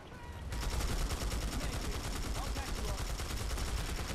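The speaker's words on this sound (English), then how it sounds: "Oh, burst fire." Burst-fire gunfire from the PS4 shooter Planetside 2 plays as rapid, dense volleys of shots. The loud, repeated cracks run nonstop after a brief quieter opening.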